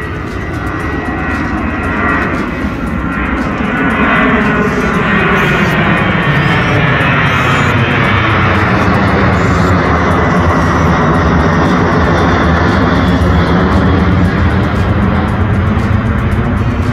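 A jet airliner departing Sydney airport roars steadily and loudly throughout, a broad, sustained engine rumble with a slowly shifting pitch as the aircraft passes, no voices present.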